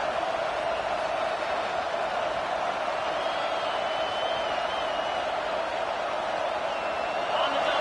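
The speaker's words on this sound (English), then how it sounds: "listen to this crowd noise. This stadium is vibrating." A roaring stadium crowd at a college football game: a dense, continuous wall of cheering and noise, loud and unbroken, with a faint whistle-like tone drifting above it.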